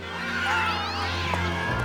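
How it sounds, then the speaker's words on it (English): Cats meowing, a drawn-out rising and falling cry that carries over a steady low background hum, close and clear for nearly two seconds. "Herding cats."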